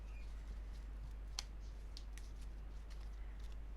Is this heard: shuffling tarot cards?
yes